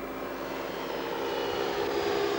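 A light aircraft's engine drones steadily in flight, a constant loud hum with no talk.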